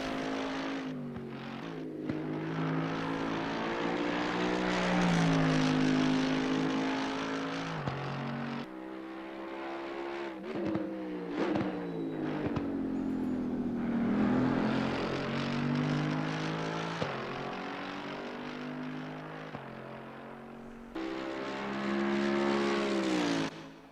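Mercedes-AMG GT3 Evo race car in Assetto Corsa Competizione at Valencia: a loud, steady engine drone climbing and falling through gear changes, with brief dips under braking across a fast lap.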